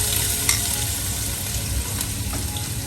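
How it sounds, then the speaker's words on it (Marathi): Onion frying in hot oil in a pan, a steady sizzle with occasional stirring scrapes, close and continuous without speech. "भांड ठेवलं, तेल टाकलंय, आता फोडणीला मी कांदा घालते."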